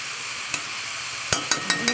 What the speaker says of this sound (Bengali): ওই আলুর সঙ্গে বিটার গাড়োটা সুন্দর করে মিশিয়ে দিচ্ছে হ্যাঁ, হ্যাঁ। একদম তেলের মধ্যে সুন্দর করে ফ্রাই করে দিচ্ছে